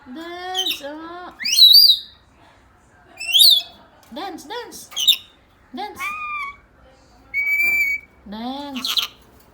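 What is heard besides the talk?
pet parrot squawking and whistling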